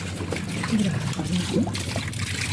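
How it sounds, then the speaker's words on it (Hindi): Water overflows from a rooftop tank, a steady trickling and pouring with someone talking over it, moderately close. "मैंने पानी चालू किया था जो कि ओवरफ्लो हो गया था"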